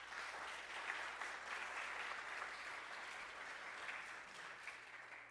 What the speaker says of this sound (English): So your vestry deserve a round of applause.